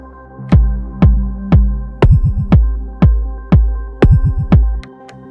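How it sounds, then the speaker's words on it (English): A Machinedrum drum machine's synthetic kick drum plays a steady pattern of deep, booming hits, some beats broken by parameter locks into quick rolls of shorter thumps, with a droning tone underneath. "Now the bass drum track sounds like this."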